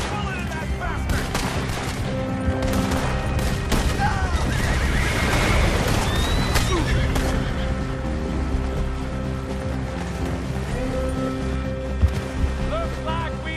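Rapid gunfire crackles through a chaotic Red Dead Redemption 2 gunfight, mixed with horse whinnies, galloping and shouting voices, loud and continuous with a sharp shot near the end.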